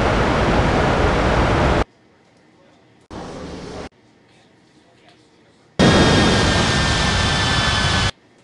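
A China Eastern jet airliner takes off from runway 27 at Ngurah Rai Bali International in a mobile air traffic control game, heard as loud broadband engine roar in abrupt bursts: a long blast, a shorter quieter one, then another long blast.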